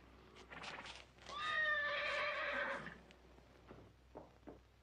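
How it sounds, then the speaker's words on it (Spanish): A horse gives a loud, drawn-out whinny lasting more than a second in a western film, with a few fainter hoof or movement sounds before and after it. "Nos hará falta ese caballo."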